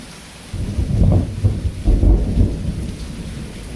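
Tropical storm from the Gulf of Mexico in southwest Florida: a deep rolling thunder rumble swells twice over steady rainfall, heard outdoors without talk.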